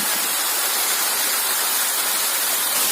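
A cascading waterfall on the left bank of the Dniester river gives a steady, dense rushing roar that holds evenly throughout with no voices.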